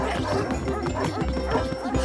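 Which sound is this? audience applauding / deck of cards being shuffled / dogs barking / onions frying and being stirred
dogs barking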